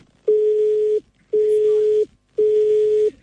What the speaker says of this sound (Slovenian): Nažalost, pukla je veza.